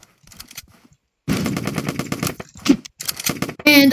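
Automatic gunfire from an online shooter video game rattles in fast, loud bursts, starting after a quiet moment and continuing in repeated volleys with brief pauses, with game sound effects mixed in.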